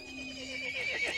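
Horse neighing in the Resident Evil Village video game, a shrill whinny rising and wavering over about a second against a soft ambient background.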